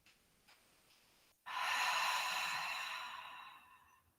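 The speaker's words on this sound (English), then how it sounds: "Breathing." A single long, breathy exhale during a seated yoga twist, soft but close, fading slowly after a quiet, faint inhale before it; no talking.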